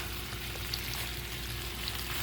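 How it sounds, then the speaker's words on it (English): Shrimp fry in a hot pan for shrimp scampi, giving a steady, close sizzle with a few small pops. "we just want to cook the shrimp at this point"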